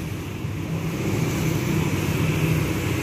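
Vehicles move along a road where a cow blocks the way, a steady mid-level engine drone rising slightly, with a faint tonal hum and no voices.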